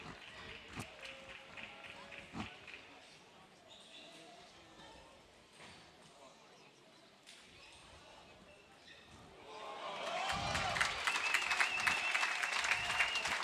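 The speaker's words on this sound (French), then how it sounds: "Les applaudissements, c'est les frères Gauzy là" At a France 2025 table tennis match, scattered noise gives way to a swell of applause from a crowd, rising and sustained for the last few seconds, with a commentator talking over it.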